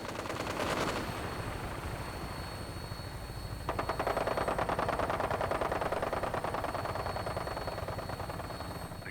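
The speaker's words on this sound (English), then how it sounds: "minigun in front of you is loaded and ready to fire" A minigun fires continuously from a helicopter in Fallout 4, a dense rapid rattle of rounds that swells louder partway through, over a steady rotor drone with no talking.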